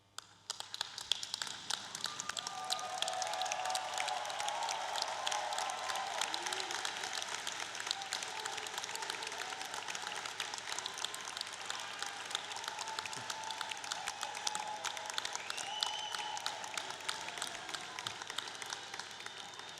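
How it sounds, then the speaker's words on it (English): Engineering graduates at a 2025 Drexel University commencement ceremony give sustained applause, a dense, steady crowd clapping that lasts throughout with no talk. "give a heartfelt round of applause to the people who helped get you here."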